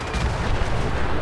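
Liberty Prime, the giant robot in Fallout 4, firing heavy weapons, producing a dense, loud, continuous roar of booming blasts like artillery that fills the whole moment with no speech.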